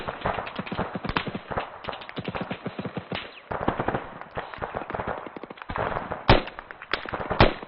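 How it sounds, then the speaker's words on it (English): Gunfire in a flight-simulator combat exercise: rapid bursts of sharp cracking shots fire in quick irregular clusters, with a couple of heavier, louder booms standing out near the end, all fairly close and dense. "Sounds like another big gun down the western side."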